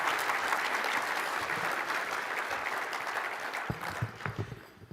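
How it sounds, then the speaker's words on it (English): Audience applause at a city's annual State of the City presentation, a steady dense clapping that holds for several seconds and then thins out into scattered claps near the end. "Now we can give them a round of applause."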